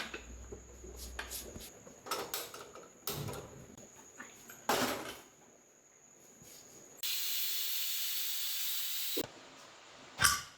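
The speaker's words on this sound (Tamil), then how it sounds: "சாம்பார் நல்லாவே கொதிச்சிருச்சு" Sambar boiling in a pot, heard as scattered bursts of hissing steam and clatter, then a long, loud, steady hiss before a final sharp burst.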